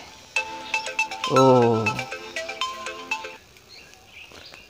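A chirpy electronic ringtone melody rings nearby in short repeated notes, with a brief voice cutting in partway through.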